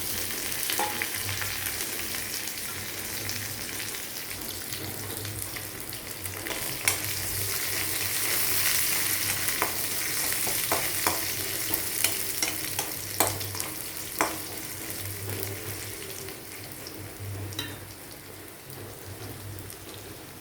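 Curry leaves spit and crackle in hot oil for mango pickle, a moderate, steady sizzle scattered with sharp pops and light stirring clicks, close by and without any voice.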